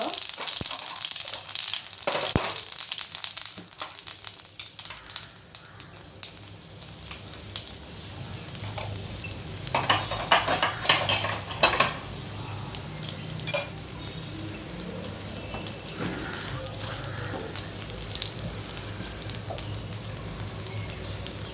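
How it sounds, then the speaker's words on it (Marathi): Mustard seeds, cumin and asafoetida sizzling in hot oil for a black chickpea curry, a steady loud crackle with fast popping and stirring noises, a voice speaking briefly over it. "तेल तापलंय. आता त्यात मी 1 चमचा राई, 1 चमचा जिरं आणि हिंग,"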